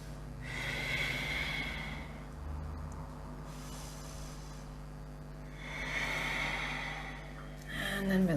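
Slow, deep breaths in a yoga class come through as two long airy inhale-exhale swells, fairly close and soft, with a faint low hum underneath and no talk.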